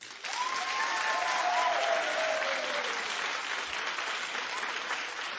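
Studio audience at a daytime talk show clapping in a poll, a loud sustained round of applause starting sharply and holding steady, with a few cheers and whoops over the clapping before it tapers slightly.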